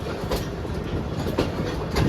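The Allama Iqbal Express 10DN on the Sialkot to Lahore line rumbles steadily at a station, with loud, close rolling noise and rhythmic clickety-clack from the wheels.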